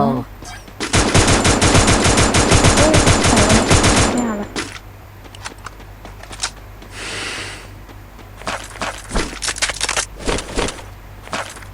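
Video game gunfire: a loud sustained automatic burst lasting about three seconds, then quieter scattered single shots and short bursts, with a low engine-like hum underneath.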